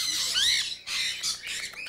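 A parrot at a parrot rescue lets out loud, harsh squawks close by, two or three piercing bursts in quick succession.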